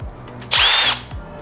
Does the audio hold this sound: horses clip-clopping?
no